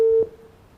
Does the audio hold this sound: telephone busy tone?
yes